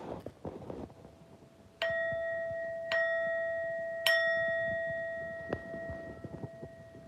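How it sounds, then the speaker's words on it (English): A bright notification bell chimes on a livestream several times, each ding ringing out clearly and decaying over a second or more, with soft clicks and faint background movement between strikes and no talk. "you get a bell for joining the stream"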